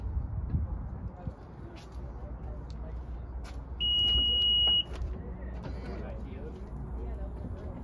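A Honda's automatic tailgate with privacy screen gives a single steady, fairly loud electronic beep lasting about a second, over a low continuous background rumble.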